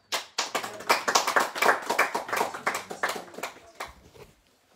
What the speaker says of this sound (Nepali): सबैजना ताली बजाएर उहाँलाई धन्यवाद दिनेछौँ।